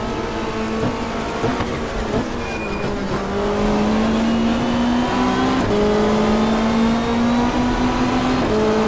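Super touring race car engine on a 1995 Australian Super Touring Championship lap at Symmons Plains, heard from on board, droning loudly and steadily with rising pitch as it accelerates and sharp shifts between gears.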